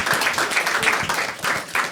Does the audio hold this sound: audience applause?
yes